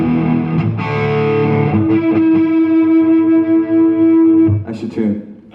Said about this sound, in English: you tune down the P90 and you kind of almost get a telly sound